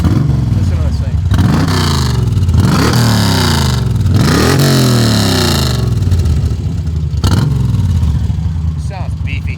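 A 2002 Moto Guzzi Stone Metal motorcycle exhaust revs repeatedly from a deep idle into rising, throaty bursts, loud and close, with a voice talking over it.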